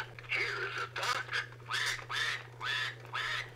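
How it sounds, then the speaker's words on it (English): A 1989 Mattel See 'n Say toy plays a recorded duck, giving a run of about six nasal quacks in steady rhythm, close and clear over a low electrical hum. "Here is a duck."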